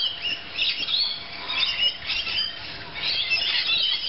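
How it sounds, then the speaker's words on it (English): A baby kookaburra in an Australian backyard gives harsh, crow-like squawking calls in repeated bursts at moderate distance, with no laughing cackle. "Here's the baby kookaburra."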